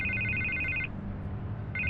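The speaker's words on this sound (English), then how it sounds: "I can't get the phone to stop ringing." A telephone rings in a Batman video game: a bright electronic double-burst trill, then a pause, then the next ring beginning, over a low background hum.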